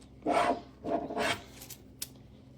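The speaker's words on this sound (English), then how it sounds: "Let's give it a good tightening here." Knob on a SmallRig 22-inch magic arm fitted with rubber O-rings being tightened, giving two close, quiet rubbing, creaking twists followed by a small click, with no voices.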